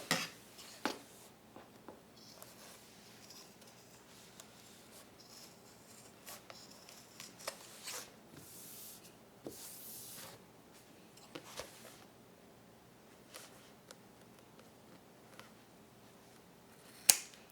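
Scissors cutting a fabric corner while sewing a unisex bag: scattered, quiet snips and small handling clicks over about seventeen seconds, close and soft, with one louder snip near the end.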